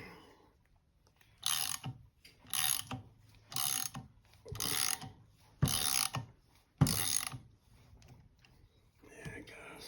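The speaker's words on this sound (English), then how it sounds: "we got the puller installed right here and put a little force on it" A gear puller is tightened with a ratchet to draw a part off a Datsun 280Z R200 differential, giving about six close, loud bursts of ratcheting in a regular rhythm with short pauses between them.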